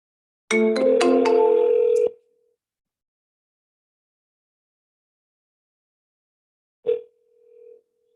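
A burst of rapid telephone keypad tones, then silence, then a short electronic tone as the call connects.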